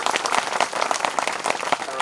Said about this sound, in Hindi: तो भैया सूरत वाले के लिए ताली बजाओ भैया।